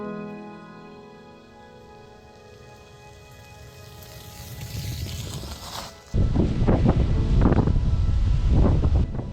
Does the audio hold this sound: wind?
yes